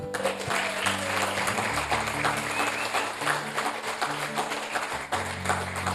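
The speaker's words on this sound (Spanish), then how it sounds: "Ahora des un aplauso." Church congregation applauding after a sermon call, steady dense clapping filling the hall with sustained music or organ tones underneath, continuous and fairly loud throughout.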